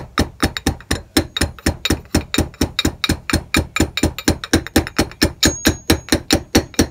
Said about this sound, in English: You put it on top of the new bushing and you just evenly tap around it.